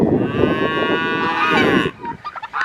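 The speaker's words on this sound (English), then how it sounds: "And here's them cows just begging for something." Cattle on a farm moo loudly and close by in one long, drawn-out call, which then tails into fainter, shorter grunting sounds.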